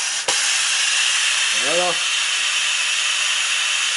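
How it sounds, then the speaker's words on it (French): Steam released from a closed pressure cooker after cooking a beef and vegetable stew: a loud, steady hiss fills the whole clip, with a brief spoken word near the middle. "On va évacuer la vapeur."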